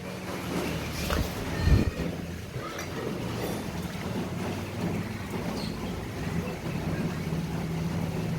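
A Honda Vario carburetor scooter engine idles steadily nearby during a throttle adjustment, a continuous low drone with a brief louder knock or bump early on.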